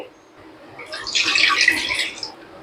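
Water pours steadily into a pan for wheat-flour payasam, a bright rushing splash that swells and then tapers off after a couple of seconds.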